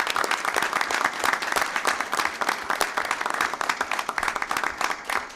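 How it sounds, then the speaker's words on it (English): An audience at a Fenton High School board meeting gives a sustained round of applause, with dense, steady clapping filling the room throughout and no voices rising above it. "Give them a round of applause."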